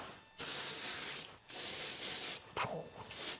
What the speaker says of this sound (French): je vais utiliser une petite bombe de graisse